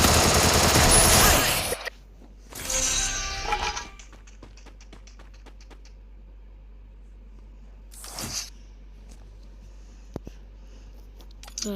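Loud bursts of gunfire in the Free Fire video game: a dense, sustained volley up front, a second shorter burst soon after, then quiet with only faint scattered clicks.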